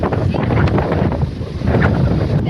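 Strong wind buffets the microphone in a constant roaring rush, loud and close, with gusts rising and falling.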